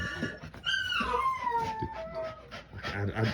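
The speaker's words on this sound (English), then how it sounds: "That's my dog." A dog whimpers and whines in high, drawn-out tones, close by, with soft panting and shuffling around the cries.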